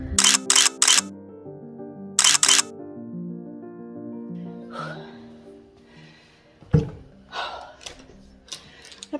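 A camera shutter fires in two quick groups of clicks, three and then two, loud and close in a quiet family home, followed by soft movement and brief voices.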